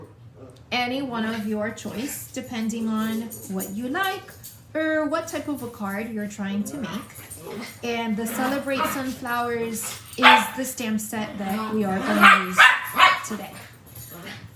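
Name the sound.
dogs whimpering and barking while playing on the couch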